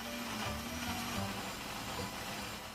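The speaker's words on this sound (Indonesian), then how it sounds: "Kita blender bumbunya sampai halus." A blender grinding spice paste made with ginger and cooking oil, a loud steady motor whir with a dense grinding texture running close and unbroken throughout, with no voices.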